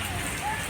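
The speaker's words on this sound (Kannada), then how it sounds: "ಇಲ್ಲೊಂದು ಹೆವಿ ಮಳೆ ಬರ್ತಿದೆ" Heavy monsoon rain in Goa falling as a dense, steady hiss that fills the whole short moment without a break.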